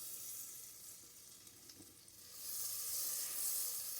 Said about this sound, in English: we're going to let them melt down here in this Instant Pot on saute.